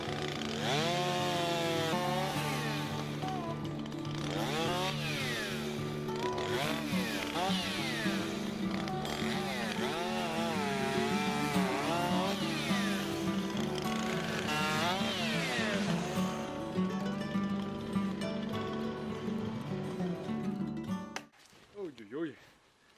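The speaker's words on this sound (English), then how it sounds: "Once I cut too deep, that cut will actually close off and my chainsaw gets stuck." A chainsaw cuts snow-laden tree branches into firewood at an off-grid site, its engine buzzing continuously with revving pitch changes, loud and close, then cutting out near the end.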